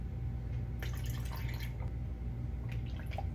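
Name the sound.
water being added to sourdough starter in a bowl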